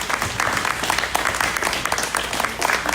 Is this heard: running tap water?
no